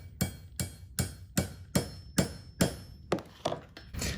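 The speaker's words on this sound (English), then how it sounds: "I'm gonna hammer that washer down" A hammer strikes a washer down onto a rivet set on an anvil, with seven sharp, evenly spaced ringing blows followed by a few quicker, lighter taps, loud and close with no talking.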